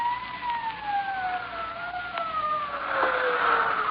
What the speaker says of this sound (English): Sirens. Can't you hear them?